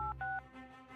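Two short electronic keypad tones from a phone as a number is dialed, each a steady paired beep with a brief gap between, over a low background hum.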